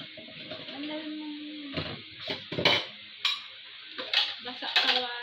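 A child washes dishes, glasses and spoons at a sink, with irregular clinks and clatters of glass and cutlery over running water, close by, while an adult talks intermittently.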